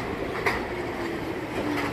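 An R46 subway train pulls into Rockaway Boulevard station in New York, its close rumble and wheel clatter steady, with a brief sharp squeal and faint whining tones as it arrives.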